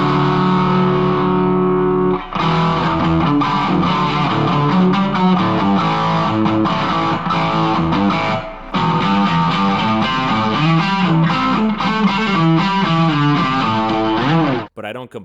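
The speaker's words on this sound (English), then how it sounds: "I would use maybe the super overdrive for some solos if I really want like a big," Electric guitar with heavy overdrive, loud sustained distorted chords and notes ringing out, with a brief break midway and an abrupt stop at the end.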